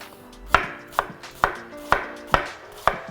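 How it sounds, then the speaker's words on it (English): A knife chops an onion on a cutting board for shrimp fried rice, six crisp, evenly spaced thuds about half a second apart, close and clear with nothing else in the background. "we'll chop up our onion"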